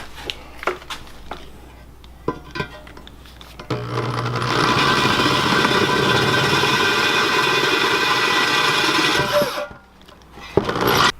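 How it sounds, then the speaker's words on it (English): A power drill whirs steadily and loudly for several seconds while drilling into a valve cover, preceded by a few clicks and handling knocks, then winds down. "Fine, I'll drill, man."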